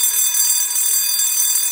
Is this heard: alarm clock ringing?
yes